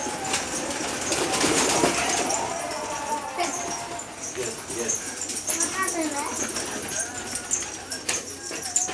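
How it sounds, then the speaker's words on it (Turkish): Pigeons coo softly in a grandfather's pigeon loft, with low repeated calls and some wing flutter behind a child and an adult talking nearby. "Biz bugün dedemin güvercinlerine geldik."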